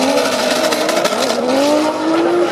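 Drift cars battling at a French drift championship at Le Castellet, tires squealing loudly and continuously over a roaring engine whose pitch climbs steadily through the slide.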